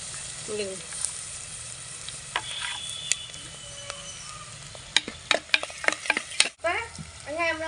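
Food sizzles in a hot pan while a spoon stirs and scrapes, with a cluster of sharp clinks and scrapes near the end.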